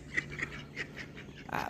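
Ducks in a backyard flock give several short, nasal quacks in quick succession, fairly close and moderately loud, with a brief burst of flapping or scuffling noise near the end and no talking.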